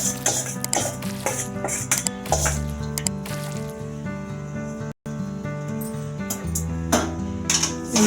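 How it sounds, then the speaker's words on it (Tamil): Egg fried rice being stirred in a cooking pot, with soft squishing scrapes and clinks of a utensil in a repeating rhythm, heard alongside background music. "இப்போ இந்த மாதிரி நல்லா கிளறி விட்டுக்கிறோம்."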